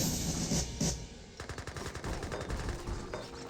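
Rapid gunfire on a barracks in the video game Age of Empires 3, a dense rattling volley of musket shots in quick irregular bursts, fairly loud and continuous with a brief lull partway through, no talk.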